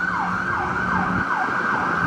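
Wailing emergency siren from an ambulance, fire truck or police car, a loud, steady up-and-down sweep repeating about twice a second, close by and continuous with faint road traffic underneath.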